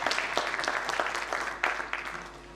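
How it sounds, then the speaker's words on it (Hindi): A short burst of enthusiastic audience clapping at a Hindi literature talk with tabla accompaniment, dense and loud at first, then gradually thinning out. "जोरदार तालियां साथियों आपके लिए।"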